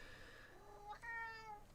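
A house cat meows near a microphone, a drawn-out, wavering call that rises and falls, fairly quiet, with no talk during it.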